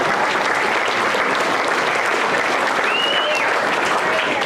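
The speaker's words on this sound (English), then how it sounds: "Give him a round of applause when I announce him." Dense, sustained applause from a crowd at a state fair FFA awards ceremony, loud and continuous with no gaps, a faint tonal whine briefly drifting through it.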